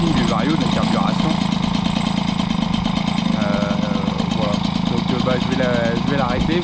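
A Peugeot 103 moped fitted with a Gilardoni 50cc kit runs loud and close just after its first start, a steady buzzing two-stroke drone with a rapid pulsing beat throughout.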